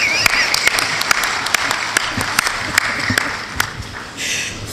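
Scattered applause fills a conference hall during a committee session of the Conference of African Ministers. Distinct sharp claps ring out at an irregular, sparse rhythm over a low room murmur.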